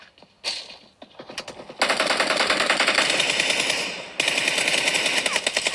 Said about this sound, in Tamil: நான் பிஸ்டல் எடுத்துட்டேன். அவன் சுட்டான்.